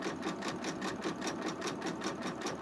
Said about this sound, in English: I am testing out embroidering a sweatshirt.